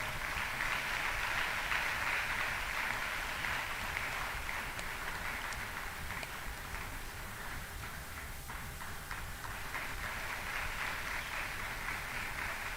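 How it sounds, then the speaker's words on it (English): Audience applause at an evening religious gathering, a faint, distant and steady wash of clapping that continues evenly throughout. "They deserve a huge round of applause."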